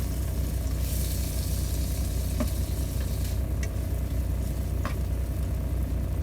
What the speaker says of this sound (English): I wanted to get the oil, the grease from the patties in my frying pan because I wanted to cook my potatoes in it